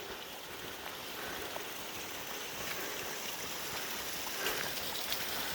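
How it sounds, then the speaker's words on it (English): A small stream flows along a coastal forest trail in winter, giving a steady, soft, low-level wash of running water with no voices over it. "Nice little stream right here coming in."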